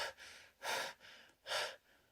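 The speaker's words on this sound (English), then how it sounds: "Her breath is now upper chest, shallow breathing" Shallow upper-chest breathing from a woman, two quick, airy breaths in a row with faint softer breaths around them, close and quiet with no talking.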